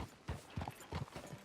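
Horse hooves clip-clopping on a frontier town street in Red Dead Redemption 2, a close, steady walking rhythm of hollow knocks with no talk.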